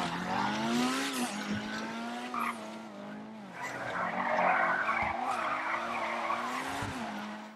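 Pfister 811 supercar in GTA 5 drifting along a road, engine droning and rising while tires squeal and skid loudly and continuously through the slide.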